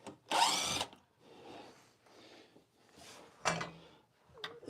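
A power drill backs small screws out of a household shelf, with short whirring bursts separated by quiet pauses, fairly faint and close.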